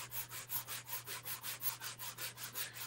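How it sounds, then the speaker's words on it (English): Steady back-and-forth scraping of fine sandpaper by hand over a wooden sign, about four strokes per second in an even rhythm, close up with a low hum underneath. "Using a fairly fine sanding paper here, because I don't want to go too fast."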